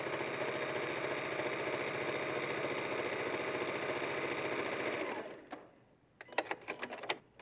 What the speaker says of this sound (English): then we just continue sewing